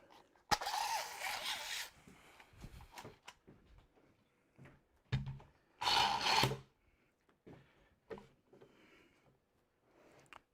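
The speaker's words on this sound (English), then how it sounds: "I'm going to put a clamp on that one as well," A clamp being tightened on a woodworking glue-up, with scraping, rubbing and knocking of wood and metal in short separate bursts among quiet gaps.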